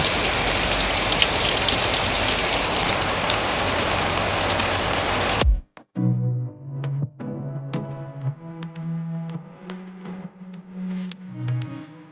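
A light shower falls in a village near Botad, Gujarat, giving a steady, dense patter for about five seconds before it cuts off abruptly and music takes over.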